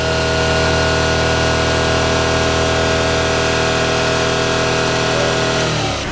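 A Subaru engine, running in its engine bay during an oil change, holds a steady, loud revving drone that stays level for several seconds before dropping away sharply at the end.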